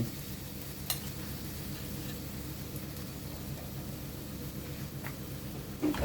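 Mussels stir-frying in a pan with roasted chili paste and a little sugar give a continuous even sizzle, with occasional sharp clicks of a utensil against the pan.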